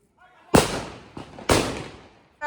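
Several marchi bomb firecrackers explode one after another at a village Diwali gathering: two loud close cracks with a smaller pop between them, each fading into a brief echo, and another starting at the end.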